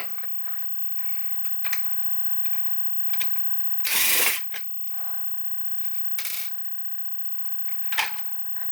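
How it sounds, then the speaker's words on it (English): A screw being taken out of a Nerf Trilogy blaster's geared priming mechanism, sharp intermittent clicks and ratcheting scrapes, with a louder burst of rattling handling noise near the middle. "So what we have to do is take this screw out"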